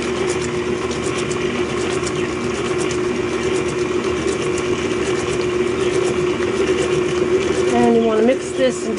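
An electric stand mixer runs on low speed, beating eggs, milk and flour into a gluten-free bread batter, with a steady mechanical whir and a brief higher whine near the end.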